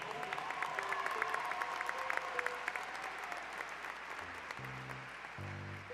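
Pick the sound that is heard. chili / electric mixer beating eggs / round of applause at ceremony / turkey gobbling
round of applause at ceremony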